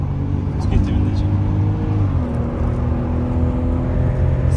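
A car, a BMW X5 or a Tofaş, accelerates from inside the cabin, its engine note rising in pitch and then shifting into a steady drone, loud and close, with a voice briefly heard.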